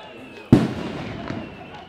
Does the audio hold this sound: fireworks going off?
yes